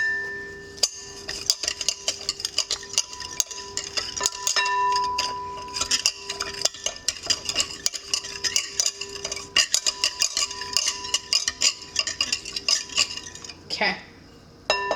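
Sourdough focaccia ingredients being mixed in a bowl in a home kitchen, with continuous clinking and scraping of a utensil against the bowl in an irregular stirring rhythm, close and fairly loud.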